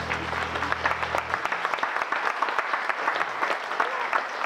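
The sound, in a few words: audience applause for the bassist Herr Schulz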